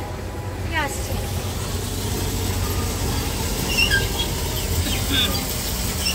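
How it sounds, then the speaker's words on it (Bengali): Train passing on the tracks below a raised spot in an amusement park: a continuous, moderately loud rumble with brief wheel squeals, and people talking over it. "নিচে ট্রেন যাচ্ছে রেলগাড়ি ঝিকঝিক রেলগাড়ি ঝিকঝিক"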